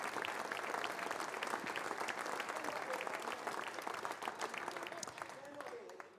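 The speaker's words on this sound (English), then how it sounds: "Milk that applause." An awards ceremony crowd claps steadily for several seconds, the applause sustained and fairly even before tapering slightly at the end.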